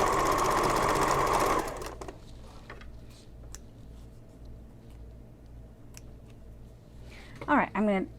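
A sewing machine runs steadily at close range, stitching fabric for a messenger bag, then stops; quiet handling noises follow, and a person speaks briefly near the end.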